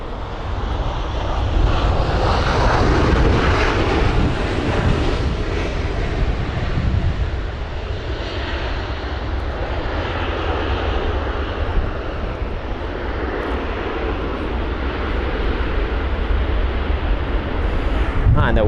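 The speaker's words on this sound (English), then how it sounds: "So there's Air Algerian there, 737-800." An Air Algérie Boeing 737-800 lands at London Heathrow in windy weather, its jet engines giving a loud, steady roar throughout with broadband rumble and wind noise that holds without letup.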